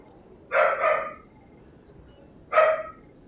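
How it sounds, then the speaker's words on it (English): A dog barks indoors in the background, two quick barks followed by a single bark after a short pause, fairly loud and with no talking over it. "Apologies for the dog in the background."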